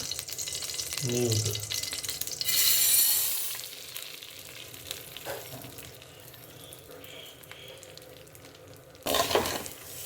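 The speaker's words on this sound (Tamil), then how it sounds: "நம்ம நெய் கொஞ்சமாக ஊற்றிட்டு பாஸ்மதி ரைஸும் வறுத்தணும் நல்லா" Basmati rice fries in a little ghee as a soft sizzle runs under occasional stirring scrapes and a couple of louder rustling bursts of grains being moved around the pan, close by.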